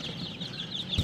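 Five-day-old Leghorn chicks in a brooder chirp in a quick run of high, thin peeps that overlap, fairly close, with a slightly louder chirp at the end.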